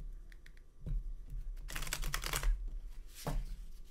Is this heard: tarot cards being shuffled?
yes